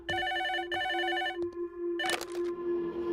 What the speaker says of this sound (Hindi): ये फोन तेरे लिए है, जा जाकर उठा।